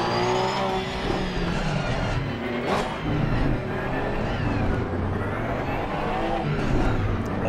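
A 2018 Porsche GT3R race car engine in Assetto Corsa Competizione fires up and revs, a loud steady motor drone with rising and falling pitch sweeps throughout.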